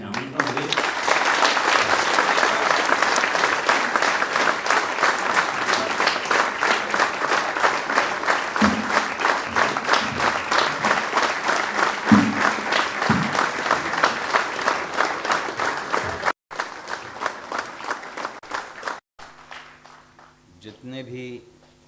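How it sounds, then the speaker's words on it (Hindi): An audience at a Hindi poetry gathering applauds to welcome the poet Ashok Chakradhar: a loud, sustained burst of many hands clapping for about sixteen seconds, then thinning into a quieter, broken patter. "आप भी तालियां उन्हें आमंत्रण दें।"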